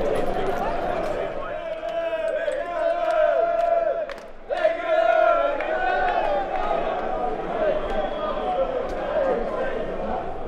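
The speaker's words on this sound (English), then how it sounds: "a small section of the remaining supporters began to goad the German police by singing offensive songs" England football supporters abroad sing and shout as a loud, massed crowd, their voices chanting continuously with a brief dip and swell midway, facing German police.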